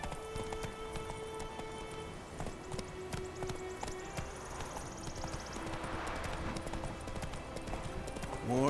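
Roach, Geralt's horse in The Witcher 3, clip-clops along in rapid hoofbeats that hold steady throughout, mixed with faint game ambience and a brief whinny.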